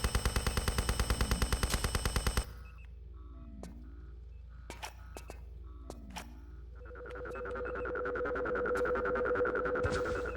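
Turret machine gun in Tomb Raider Chronicles Remastered, firing a fast, loud burst of rattling shots for about two seconds, then stopping while electronic game tones and a steady hum continue.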